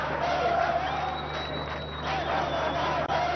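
Cricket crowd at a Bangladesh versus Zimbabwe one-day international, cheering, clapping and chanting as fans toyi-toyi dance in a circle, a steady busy roar with a thin whistle-like tone drifting above.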